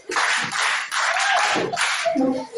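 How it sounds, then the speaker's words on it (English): A short burst of clapping from a group of children in a classroom, with brief pauses between flurries and some overlapping chatter. "All right, clap for yourself."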